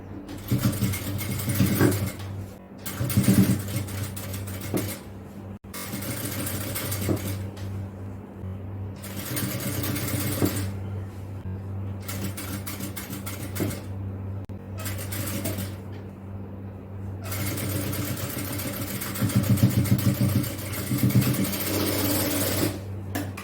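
A sewing machine runs in repeated bursts, stopping and starting as it stitches a fabric edge rolled over twice into a narrow hem. The motor's steady whir is loud and close, with short pauses between runs.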